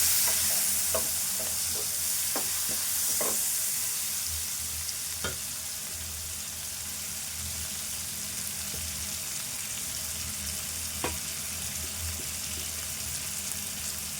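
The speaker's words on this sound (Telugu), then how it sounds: "ఉల్లిపాయ ఇట్లా వేగినాక ఇప్పుడు ఒక మీడియం సైజు టమాటో కడిగి వేసుకున్నా ఇది వేసుకుందాము ఇది కూడా కలుపుకుందాము" Chopped onion and a medium tomato fry and get stirred in a pan while cooking a green chilli chicken dish, with a steady low sizzle and occasional scrapes and clicks of the spoon against the pan.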